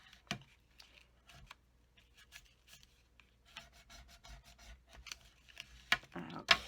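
Folded card stock scored and taped, its score lines and edges burnished, giving soft dry rubbing and scraping strokes in short bursts with small ticks and clicks, close and quiet.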